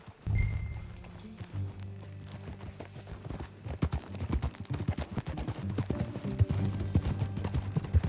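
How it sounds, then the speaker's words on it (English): Horse hooves clip-clopping in Red Dead Redemption 2, a brisk uneven run of hoofbeats that grows busier and louder as the horse moves, with no talk over it. "That a new horse?"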